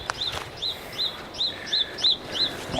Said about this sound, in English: Hear all the birds, they're all happy.